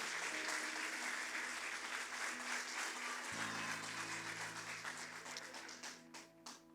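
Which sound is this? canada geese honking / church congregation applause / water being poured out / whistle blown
church congregation applause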